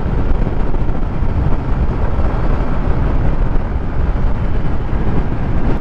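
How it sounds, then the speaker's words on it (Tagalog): Strong, loud wind buffeting the microphone while riding a Honda Click 125i motorcycle at high speed on a normal riding position, a constant roaring rumble throughout with no clear talk. "Malakas pa yung hangin ha."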